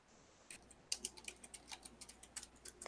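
Someone typing on a computer keyboard nearby, with quiet rapid irregular key clicks and a few sharper taps across a few seconds over faint background hiss.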